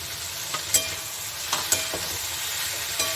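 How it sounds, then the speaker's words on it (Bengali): Ghee sizzling in a hot pan during a home cooking session for an ash gourd dish with fritters, a steady soft frying hiss broken by a few light scraping stirs of a spatula. "এখন আমি ওই যে অল্প ঘি দিয়ে দিচ্ছি"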